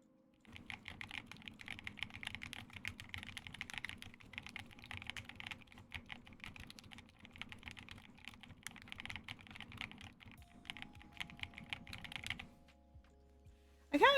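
Someone types continuously on a self-built mechanical keyboard with no function row, producing a close, dense patter of clacky keystrokes that runs for about twelve seconds and then stops.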